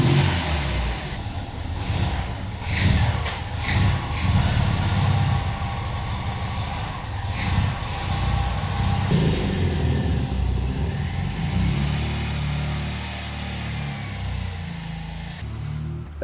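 A 1979 MGB sports car engine revs and pulls while driving, a steady mid-pitched drone with repeated surges of acceleration, heard from inside the cabin and without speech.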